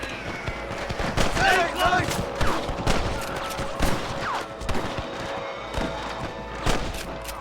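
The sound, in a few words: gunfire in Red Dead video game shootout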